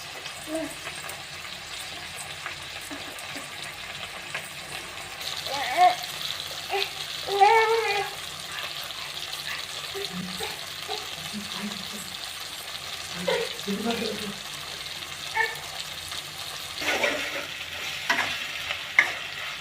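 Spices stirred and fried in a pan for a mushroom masala curry after chopped tomatoes have softened, giving a low steady sizzle with intermittent scraping stirs and clinks throughout, with no one talking.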